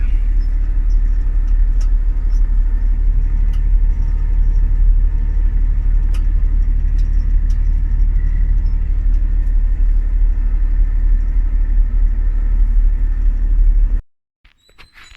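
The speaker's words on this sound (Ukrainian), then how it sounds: "Застучав мотор." A car engine knocking while driving home, a loud steady low rumble of the engine and road noise that runs on continuously, then cuts off abruptly near the end.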